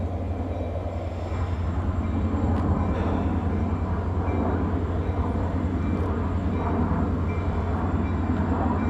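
A derailed Caltrain locomotive being inched back onto the rails with portable rerailers, pulled by a second locomotive: a steady, heavy diesel engine drone and rumble that holds loud and constant, with faint metallic ticks.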